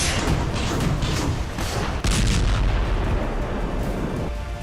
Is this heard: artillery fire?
yes